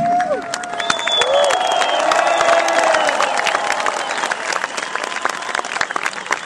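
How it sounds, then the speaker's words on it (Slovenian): A large outdoor crowd on Prešeren Square in Ljubljana applauds and cheers a returning sports team, sustained and loud throughout, with scattered shouts in the mix. "In še en velik aplauz tej ekipi."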